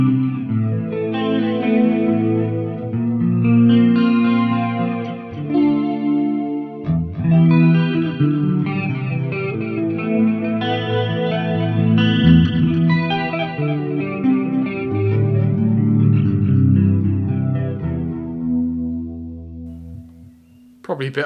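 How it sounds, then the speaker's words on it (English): Guitar through a Zoom 505 effects processor set with heavy delay and reverb: strummed chords and picked notes ring out and echo into washy trails, one steady passage played close and fairly loud. "Loads of delay and reverb."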